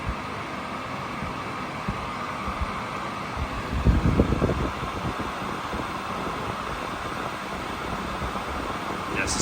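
A TruSens Z-3000 HEPA air purifier fan running on its Turbo setting, heard close as a steady broadband whoosh of rushing air with a brief louder swell midway and no talk.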